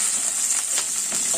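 Chilli, ginger and garlic paste sauté with curry leaves in hot oil for a chicken roast, making a brief, close sizzle with a few stirring scrapes and no voices.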